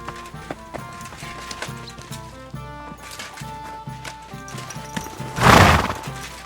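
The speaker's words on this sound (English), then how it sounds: "Saddle your horse and get ready." A horse in Kingdom Come: Deliverance 2 gives one loud, close whinny near the end, after a long stretch of steady hoof clip-clop on the ground heard over soft game ambience.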